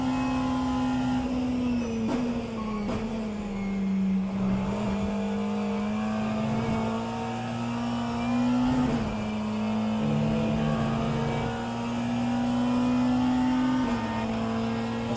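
A McLaren race car in an endurance racing simulation holds a steady, high engine drone, with brief dips at gear shifts and another car's engine passing close alongside.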